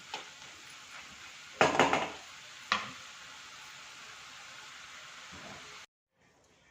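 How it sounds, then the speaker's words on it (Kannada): Turmeric frying in a pan for mushroom masala gives a steady soft sizzle, broken by a few louder scrapes of a utensil stirring against the pan, then a brief drop to near silence at the end. "ಅರಿಶಿಣದ ಒಂದು ಹಸಿ ವಾಸನೆ ಕೂಡ ಹೋಗೋ ತನಕ ಈ ರೀತಿಯಲ್ಲಿ ಸ್ವಲ್ಪ ಫ್ರೈ ಮಾಡ್ಕೊಳ್ಳೋಣ"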